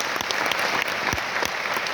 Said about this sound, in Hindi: मैं चाहूंगा एक बार जबरदस्त तालियां।